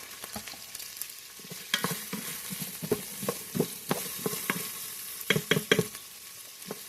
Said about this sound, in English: So we let our celery cook for a few minutes.